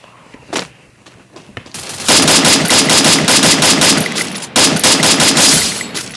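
Rapid bursts of automatic gunfire in a video game erupt loud and close, a long rattling volley with a brief pause, after a few quieter scattered shots.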